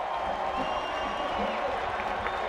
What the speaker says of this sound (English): This crowd continues to voice its approval